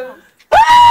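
A person screams loudly, a sudden sustained high-pitched cry that starts abruptly after a quiet stretch of talk.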